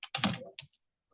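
Keys clatter on a computer keyboard as JavaScript code is typed, a short close burst of quick taps followed by a single click and then quiet.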